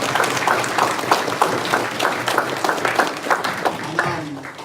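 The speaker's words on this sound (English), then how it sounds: "So just give them a round of applause again," Audience applause at a Masharah Yasharahla meeting, a steady burst of hand clapping from a crowd that fades out near the end.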